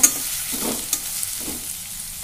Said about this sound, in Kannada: ಈರುಳ್ಳಿ ಹಾಕ್ತೀನಿ. 2 ಈರುಳ್ಳಿ ಹೆಂಚ್ಕೊಂಡೇನಿ. ಸ್ವಲ್ಪ ಇದೆಲ್ಲ ಹುರಿಬೇಕು.